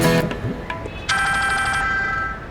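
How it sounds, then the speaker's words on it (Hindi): A mobile phone rings with a bright electronic ringtone that breaks off early, then starts again and holds steady at close range. "मैडम जी, ये तो विक्की साहब का फोन है।"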